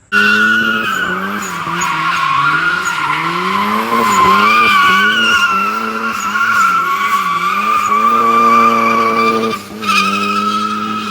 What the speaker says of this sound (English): It just makes like those sweet, smooth 4-cylinder sounds in the boost noise.